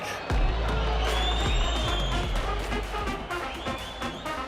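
Crowd roar and cheering at a Chattanooga FC versus Huntsville City FC football match, a dense, sustained wall of voices near and loud, with a few whistles and shouts rising above the broad swell.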